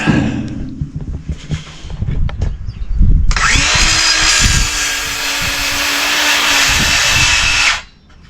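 A battery-powered cutting tool trims material while fitting a large fuel tank into a Grady White boat, first handling knocks and clatter, then a loud continuous close-up whine for several seconds that cuts off abruptly as the battery dies.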